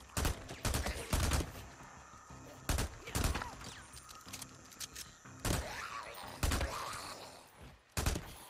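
Gunfire in Days Gone: several loud, sharp bursts of shots arrive in clusters across the clip, separated by stretches of quieter in-game sound, with some speech in the background.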